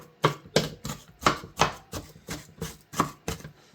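A knife chops an onion small on a board for a home-cooked ground turkey and gravy dish. About eleven crisp, evenly spaced thuds come close and clear, with no talking.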